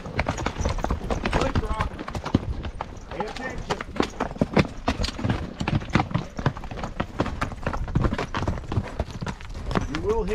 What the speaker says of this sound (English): when you're riding a mule, make sure you listen to your mules